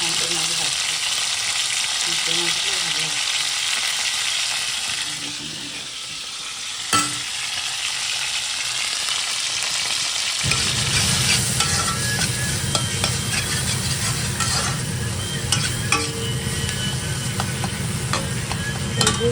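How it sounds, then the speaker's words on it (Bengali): Steady hissing sizzle of sea fish frying in a hot pan, growing louder and fuller partway through, with occasional stirring scrapes and light crackles. "মাছ ভাজছে"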